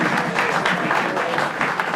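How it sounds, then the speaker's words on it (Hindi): Audience at a stand-up comedy show claps in a brisk, continuous round of applause, fairly loud and close, with individual hand claps audible throughout. "big round of applause"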